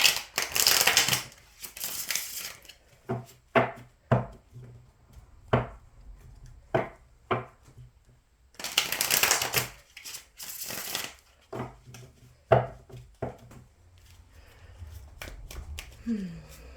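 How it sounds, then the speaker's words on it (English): Tarot cards being shuffled and drawn, with two bursts of riffling shuffles followed by a series of separate sharp card snaps and taps, close and clear in a quiet room. "now I'll just pull one card for each to get another layer of information"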